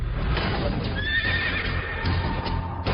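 A horse whinnies with a rising, wavering neigh over a continuous rumble and clip-clop of hooves, fairly close and loud, with no talking.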